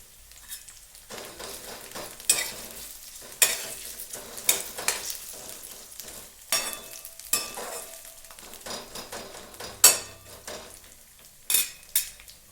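Chopped onion and potato fry for poha in a pan, sizzling under repeated sharp scrapes and clinks of a spoon stirring against the metal, with busy bursts of activity and short pauses between them.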